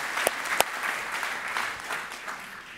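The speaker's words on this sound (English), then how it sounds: "A big round of applause for my bartender, everyone." Audience at a magic show claps for a volunteer bartender, with a few sharp, loud claps up front and then softer, thinning applause that tapers away.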